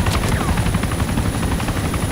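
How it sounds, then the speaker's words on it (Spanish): A helicopter in the video game DayZ, on the Panthera Island map, flies nearby with a steady, loud, continuous rotor thump and engine roar throughout. "Estoy escuchando un helicóptero cerca"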